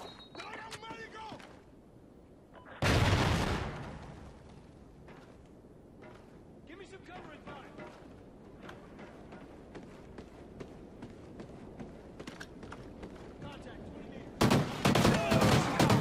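Gunfire in Call of Duty: Ghosts on Xbox 360, two loud blasts of shots separated by a long stretch of quieter footsteps, mechanical clicks and intermittent talking.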